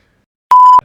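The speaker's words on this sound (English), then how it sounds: "Beep." A single clean electronic beep, loud and steady for about a third of a second, isolated against silence.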